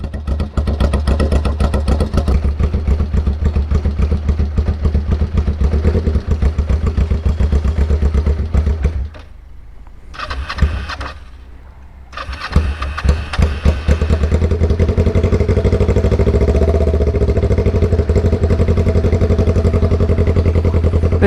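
A 2009 Kawasaki Ninja 500R, carbureted and mostly stock with shorty exhaust tips on both sides, idles loudly and close with a steady throbbing rumble that drops off briefly in the middle before resuming.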